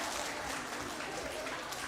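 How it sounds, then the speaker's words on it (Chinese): A church congregation claps together in a steady, even wash of applause that fills the room, fairly soft and continuous from start to finish. "给他们拍拍手"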